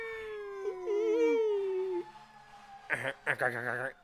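Dogs howling in Los Angeles: a long wavering harmonic howl over about two seconds, then after a pause two shorter, rougher bursts of howling and yelping, fairly loud and close.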